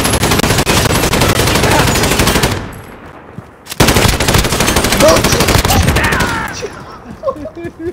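Light machine gun firing in a video game, two long rapid automatic bursts of loud, dense gunfire separated by a brief pause, the second burst tapering into scattered shots and quieter game sounds.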